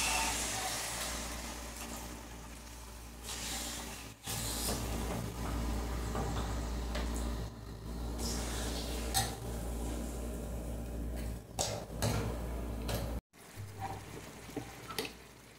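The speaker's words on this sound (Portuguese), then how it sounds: "o frango tá fritando já" Steady sizzling hiss of chicken frying in a pan, with occasional crackles and pops throughout, close up and continuous.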